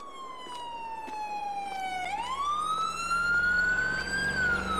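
Police siren in Farming Simulator 22, a loud continuous wail that slides down, then rises and holds over steady vehicle rumble; no voices.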